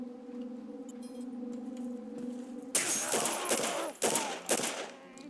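A gun fires in the video game Condemned: Criminal Origins: a humming ambient tone gives way to a few loud, sharp shots with ringing tails, spaced a second or so apart.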